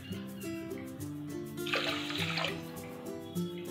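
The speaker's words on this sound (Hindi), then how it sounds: "जिस बाउल से हमने चीनी लिया है उसी से हम 3 बाउल डाल लेंगे पानी" Water poured from a bowl into a pot of sugar to start a syrup, a brief broadband splashing rush in the middle, heard over steady background music.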